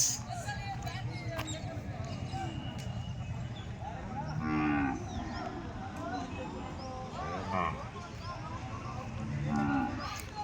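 Cattle and calves moo repeatedly at the weekly market in Kodad, several drawn-out calls rising over a steady crowd murmur and livestock noise.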